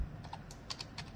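Someone types on a computer keyboard, entering a name in Proteus software. Several quick, light key clicks come in an irregular patter over a low background hum, faint and close.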